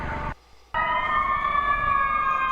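A loud, steady emergency vehicle siren wails with a sustained tone during the 2011 Chicago blizzard, briefly cut by a short gap near the start, then continuing strongly.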